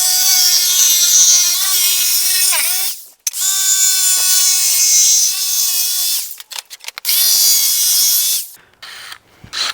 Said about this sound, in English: we'll take our 1/2-inch bit and we'll drill these holes